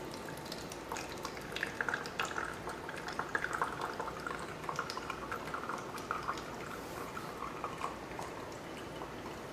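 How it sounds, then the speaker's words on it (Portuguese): Salt water filtering in a science lesson on aqueous solutions, heard as steady fine liquid trickling and dripping with a soft continuous bubbling hiss, close and even throughout. "Agora, filtremos a água com sal para ver se podemos remover o sal."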